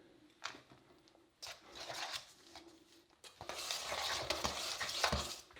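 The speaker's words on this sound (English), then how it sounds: "Just keep mixing that until you beat out any clumps that there may be." Erythritol buttercream frosting of butter, cream and vanilla is beaten in a bowl, giving soft, uneven scraping and stirring strokes in bursts that grow busier toward the end.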